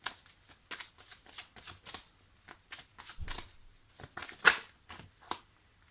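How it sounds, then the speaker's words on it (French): Oracle cards are shuffled and drawn by hand in a quick series of crisp, papery riffles and flicks, close and fairly quiet with short pauses between bursts. "je vais prendre une ou deux cartes avec l'oracle coup de cœur pour le domaine sentimental"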